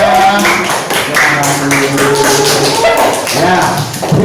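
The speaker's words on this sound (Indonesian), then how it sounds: "Beri aplaus dong untuk kelompok 3," Schoolchildren in a classroom clap together for a group, a steady run of quick, close claps that continues while a voice speaks over it.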